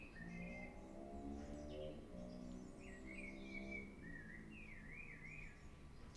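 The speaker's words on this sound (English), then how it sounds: "Birds are singing." Birds sing and whistle in varied, warbling phrases at a moderate distance, with a soft steady background hum underneath.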